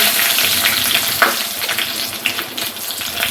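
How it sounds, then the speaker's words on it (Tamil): Mustard seeds and two dried chillies frying in hot oil for mor kuzhambu, a close crackling sizzle with small popping bursts and stirring, loud and continuous. "ஆயில் காஞ்சிடுச்சு, கொஞ்சம் கடுகு போட்டுக்கலாம். ஒரு 2 காஞ்சி மிளகாய் போட்டுக்கலாங்க."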